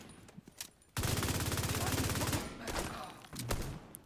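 Rapid gunfire in The Division 2. A fast, loud automatic burst runs for about a second and a half, then shorter bursts follow, with a few scattered pops before it.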